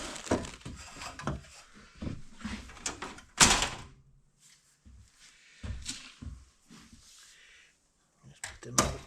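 Wooden range hood cabinet doors are handled and set aside, giving close knocks, clatters and a sharp thud between pauses, with speech at the start.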